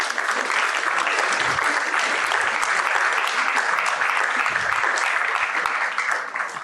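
Sustained audience applause fills a book launch for a Hungarian foreign minister's memoir, dense and steady clapping from many hands, loud and close, continuing unbroken for several seconds before easing slightly at the end.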